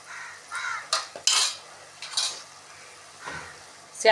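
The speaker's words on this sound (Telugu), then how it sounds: "ఇలా వేపుకోవాలండి ఉల్లిపాయ వేగిపోయిందండి" Onions fry in a pan for a raw mango and fish curry, with intermittent scraping stirs and clinks of a utensil over a soft sizzle. The bursts are irregular, close and moderately loud, and nobody speaks.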